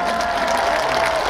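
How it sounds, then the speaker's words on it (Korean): A concert audience claps in dense, continuous applause, loud and close, with the crowd noise filling the whole moment at an outdoor commemorative music event. "사천한테도 박수 한번 주시겠어요?"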